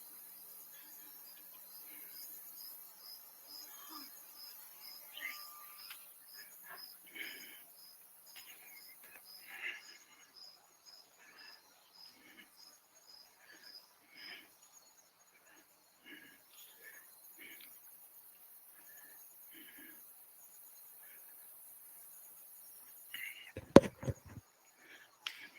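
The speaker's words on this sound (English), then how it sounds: "Crickets." Faint crickets chirp in a steady high trill throughout a quiet meditation session, with scattered soft rustles and a brief louder clatter near the end.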